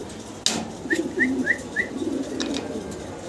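A male fancy pigeon at a pigeon sale gives a short series of about four soft, throaty coos, evenly spaced and close. A sharp thump comes just before them, with faint background noise and no talking.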